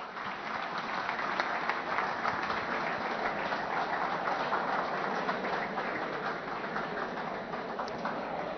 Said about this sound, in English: Guys, a huge round of applause for all the new joiners.